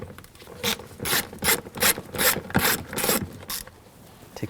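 Close ratcheting from a wrench with a 10mm socket undoing nuts on a 2007-2013 BMW 328i 3.0L inline-six, a run of about seven evenly spaced clicking strokes with no talking.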